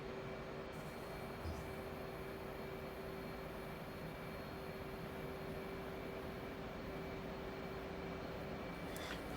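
An F-18 Hornet's jet engine drones in a flight simulator at dusk, with the throttle pushed up slightly. It makes a steady, faint, even roar with a faint tonal whine, and there are no other sounds.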